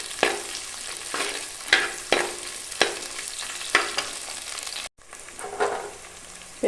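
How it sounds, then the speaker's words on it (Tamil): Onions sauté in hot oil for a village-style country chicken curry, a steady sizzle broken by repeated scraping stirs of a spoon against the pan, close and without talking. "இந்த வெங்காயம் ஒரு பாதி அளவு வதங்கினதுக்கப்புறம் இஞ்சி பூண்டு பேஸ்ட்டு சேர்த்துக்கலாம்."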